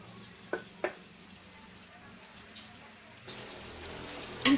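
Sliced chicken breast sizzles softly in a pan, a low steady frying hiss with a couple of brief clinks near the start, quiet and close.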